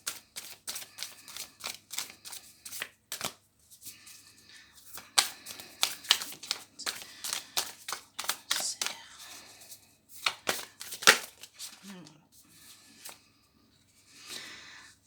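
Oracle cards are shuffled and drawn in quick bursts of crisp, close riffling and flicking, with short pauses between runs and a soft rustle toward the end.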